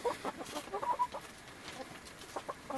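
Chickens cluck and murmur softly in a coop run covered with plastic against the snow, a few short bursts of clucks from moderately close, with no talking.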